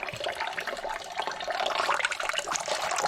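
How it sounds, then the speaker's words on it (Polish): Water streams out of the disconnected front washer system on a 1999–2001 Audi A4 B5 with the front bumper removed, a close, steady splashing trickle that runs throughout with no speech. "woda leci, jakby ktoś pytał, dlatego że w garniku nie było płynu"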